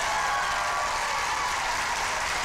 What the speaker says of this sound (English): Everybody give a big round of applause for Cassie Winchell.